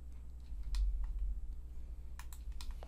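Computer keyboard keys pressed while modeling in 3ds Max, a few sharp, close clicks heard alone against a low background hum.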